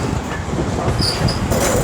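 Class 350 electric multiple unit moving through London Euston on the West Coast Main Line, a loud close rumble of wheels on rails with brief high squeals and clatter, no talk.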